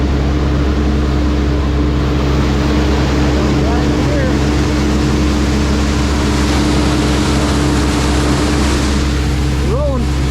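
A farm tractor drives steadily in first gear at about 1300–1400 RPM, its engine producing a continuous low drone with a few faint higher tones near the end.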